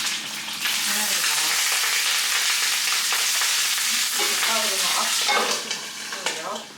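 Sausages frying in oil in a pan give a loud, continuous crackling sizzle that holds steady throughout and eases slightly near the end.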